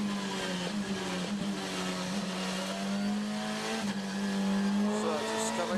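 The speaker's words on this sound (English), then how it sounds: "let's have a listen to Rob Huff on the warm-up lap" A WTCC touring race car on a warm-up lap at Paul Ricard in 2014 drones steadily from onboard, its engine holding a strong, even tone with slight pitch shifts and faint tyre noise.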